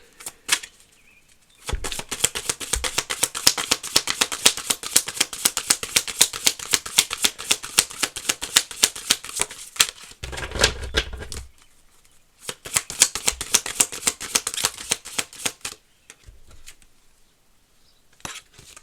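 Tarot cards being shuffled for a closing card, a loud close riffle of rapid papery flicks in long bursts separated by short pauses, with no talking.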